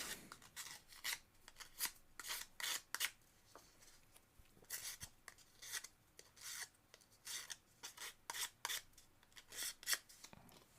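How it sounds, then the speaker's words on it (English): Short bursts of scratchy rubbing, sandpaper worked back and forth over a small piece of an Ugears wooden model car kit, close and quiet, in irregular strokes with pauses between. "While I'm sanding, I see that piece needs some sand"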